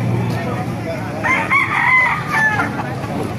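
A white gills rooster crows once, loud and close, a drawn-out call with a rising then held phrase over low background noise.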